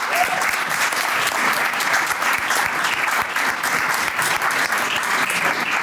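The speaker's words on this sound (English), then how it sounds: "Can we have a final round of applause to all the speakers, please?" Audience applause at an SDR awards event at the De Vere Grand Connaught, a close, dense burst of steady clapping from a crowd that holds at an even level throughout with no speech over it.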